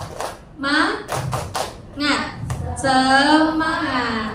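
A classroom of students claps a quick rhythmic 'tepuk semangat' pattern in short bursts, their voices chanting loudly along with and between the claps.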